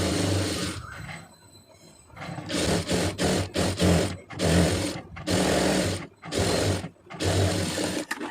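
Sewing machine stitching the lining around a round neckline, running in repeated short bursts with brief pauses between them, close and fairly loud, with no talking.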